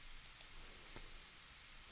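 Computer mouse clicking a few times during a K2 software installation, faint short clicks spaced apart over quiet room noise.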